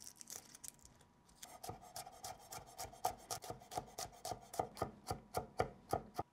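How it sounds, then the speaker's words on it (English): Knife chopping garlic on a cutting board, a few rough scrapes then a quickening run of about twenty sharp, close taps in a steady rhythm, with no talking. "the only other thing we have to chop is garlic"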